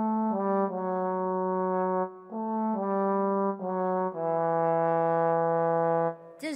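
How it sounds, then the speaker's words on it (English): A trombone plays a run of long, brassy sustained notes with short gaps between phrases, loud and close with no talking, heard in a children's cartoon about musical instruments. "No, that sounds like a trombone."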